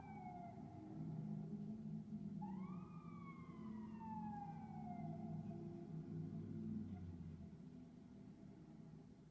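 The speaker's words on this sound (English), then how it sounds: "I'm not sure if you could hear that siren." A siren wails with rising and falling sweeps, somewhat distant, over a steady low rumble of traffic and engines.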